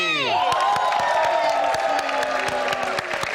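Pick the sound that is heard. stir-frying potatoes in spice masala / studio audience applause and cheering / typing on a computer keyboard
studio audience applause and cheering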